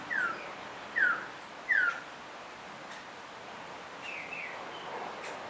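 A male bird at a zoo calls during a courtship display, giving three clear, sharp, downslurred calls about a second apart, then fainter softer calls over quiet background rustle.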